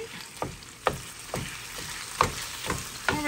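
Defrosted, partly cooked breakfast meat browning in a greased frying pan, a steady sizzle broken by about seven sharp scraping stirs at uneven intervals, close by.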